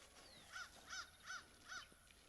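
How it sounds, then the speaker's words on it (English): Crows cawing outdoors on a farm, four evenly spaced harsh caws in a row, moderately distant and alone. "them crows are cutting up, man"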